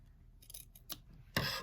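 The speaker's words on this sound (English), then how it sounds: "And then you're gonna cut the elastic." Scissors snip through the elastic band of a pair of jeans during a resizing job, a few short close cuts building to one louder sustained rasping cut at the end.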